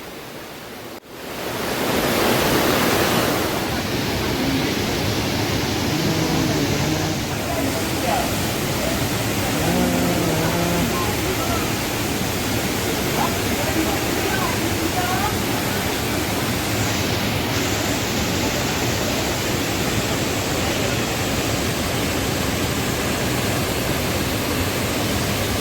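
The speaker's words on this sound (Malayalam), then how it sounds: "പാറക്കെട്ടുകൾക്ക് നടുവിലൂടെ വെള്ളം കുതിച്ചൊഴുകുന്ന കാഴ്ചയുള്ളത്" At Kadavupuzha waterfall in Moonnilavu, Kottayam, Kerala, water rushes between rocks in a constant, loud, broadband roar. Faint voices of bathers surface occasionally beneath it.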